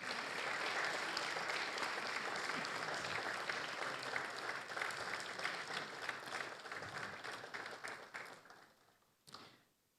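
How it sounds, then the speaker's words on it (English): Steady audience applause greeting Germany's Federal Foreign Minister at a formal conversation event, dense clapping that holds for several seconds, then thins and fades out with a brief final burst. "Please give a round of applause."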